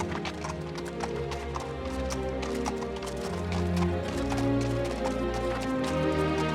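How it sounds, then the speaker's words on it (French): Horses walking in a warm-up session at Puy du Fou, hooves clip-clopping in a steady overlapping rhythm, close and fairly loud, with a brief whinny-like sound among the steps. "il fait une phase de pas quand même pour échauffer les chevaux"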